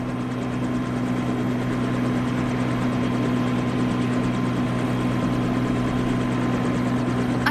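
A helicopter in flight gives a steady, loud, continuous rotor and engine drone with a fast thudding pulse, unbroken for the whole stretch and with no voices over it.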